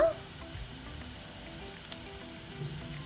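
Sliced onions and long-cut green chillies frying in a pan for a dhaba-style chicken curry, a steady faint sizzle with a small clatter at the start.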